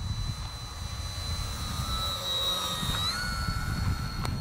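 Thin electric-motor whine from a Flite Test Freedom Fox 3S RC plane, 1100 to 1250 mm span, flying with takeoff flaps, its pitch shifting as it passes, over heavy low wind rumble outdoors.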